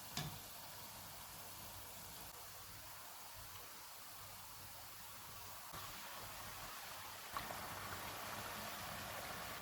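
Bread samosas deep frying in hot oil over a medium flame give a steady, soft, even sizzle with no voices throughout.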